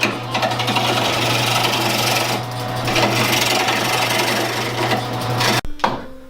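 A wood lathe turns a wooden bowl while its back side is carved, giving a steady, close mechanical whir with a continuous low hum and scraping texture that stops abruptly near the end.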